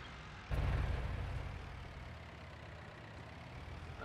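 Tractor engine in Farming Simulator 19 starting up with a sudden rise, then settling into a steady low rumble as it drives, near and alone with no talk.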